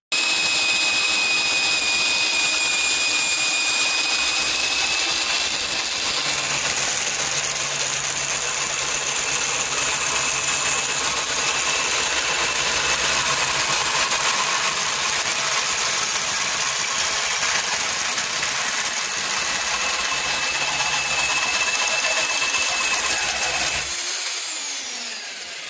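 A DeWalt drill spins a 1 3/4-inch hole saw on a tube notcher with a bearing block and shaft, cutting through steel roll bar tubing: a loud, steady, high whining grind held for about twenty-four seconds before winding down.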